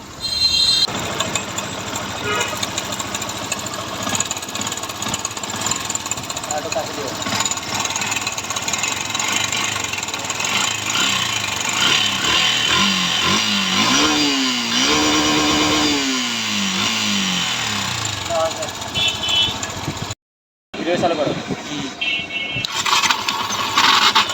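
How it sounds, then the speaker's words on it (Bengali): A Yamaha Fazer version 2 motorcycle in poor condition runs continuously at close range, idling and revving up and down, with a brief cut near the end. "বাইকের সাউন্ডটা শোনেন"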